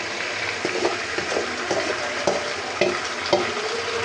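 Beef goes into browned onions in a pan for a dark Bengali beef bhuna and is turned over: a continuous sizzle with periodic scraping stirs every half second or so, close and steady, without speech.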